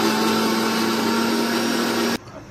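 A mixer grinder grinds a paste in a home kitchen with a loud, steady motor whine and roar. It cuts off abruptly near the end, leaving quiet room tone.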